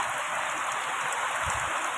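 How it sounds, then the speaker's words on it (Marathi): Heavy rain pours down in a dense, even hiss of drops on surfaces, loud and unbroken throughout with no voices. "खरंच आज पाऊस चांगला झाला आहे"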